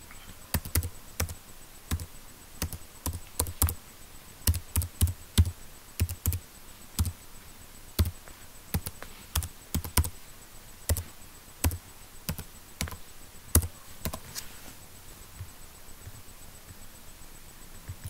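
Sharp, irregular keystrokes on a computer keyboard, with the delete key pressed among them, clicking in quick bursts and isolated taps, close and clear with no talking.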